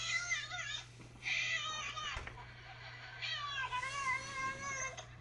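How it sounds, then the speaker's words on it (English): A distressed cat meows repeatedly in long, wavering, yowling cries, loud and close, over a low steady hum. "Cat's freaking out."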